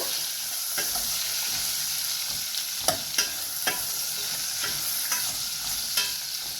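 Potato, carrot and bean pieces fry in a pan with a steady close sizzle, broken by repeated spatula scrapes and knocks as they are stirred.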